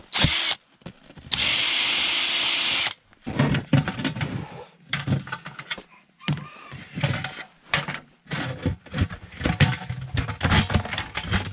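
A power drill bores a tap hole into a maple tree in deep snow, a steady, loud whirring burst lasting a couple of seconds, followed by rustling, crunching and handling noises nearby.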